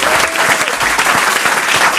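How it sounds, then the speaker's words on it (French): A studio audience at a French TV talk show applauds a singer's career with steady, dense clapping that stays loud and even from start to finish, with no voices over it. "On peut applaudir tout ça, ça s'appelle une carrière"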